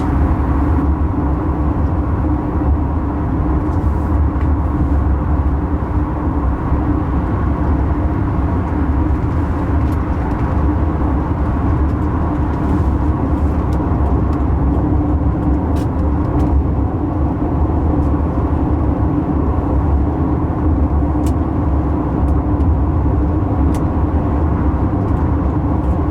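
A Toyota Camry, three months after a head gasket repair, cruises around town, heard from inside the cabin as a steady low engine and road drone with no talking.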